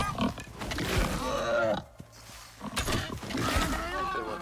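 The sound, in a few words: boar grunting in a video game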